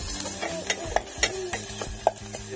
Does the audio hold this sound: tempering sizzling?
yes